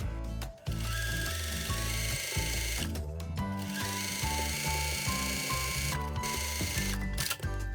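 A domestic sewing machine runs steadily while stitching a waistband seam with about a 1 cm seam allowance, a loud continuous mechanical whir broken by a few brief pauses.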